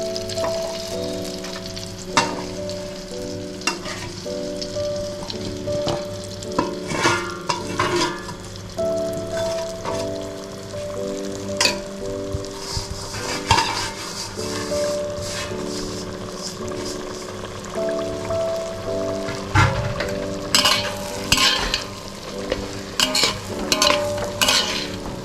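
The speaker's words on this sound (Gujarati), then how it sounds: "હવે એને આપણે 5 થી 7 મિનિટ ધીમા તાપે શેકવાનો છે." Flour roasts in hot desi ghee over low heat for mohanthal sweet, with a gentle, steady sizzle beneath repeated scraping and stirring strokes of a spoon against the pan, closely heard and uneven in rhythm.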